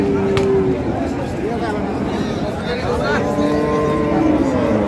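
Sahiwal, Sindhi and local dairy cows with calves at the Ambari cattle market in Parbatipur, with a drawn-out moo early on over dense crowd chatter and the hubbub of the market.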